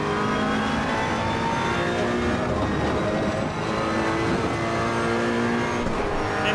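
A Ferrari 488 GT3 race car engine at Monza in Assetto Corsa Competizione, roaring loud and steady at high revs with the pitch climbing through the gears, close and unbroken by speech.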